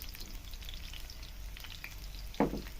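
Soft, steady sizzling and crackling of chopped garlic frying in hot oil, with a brief stirring clatter near the end.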